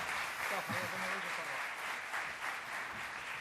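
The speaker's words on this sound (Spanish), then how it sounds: "pido un aplauso para dar por cierre este panel" Applause from a conference audience closing a decision-making panel, a continuous, fairly faint patter of clapping with a voice briefly speaking over it early on.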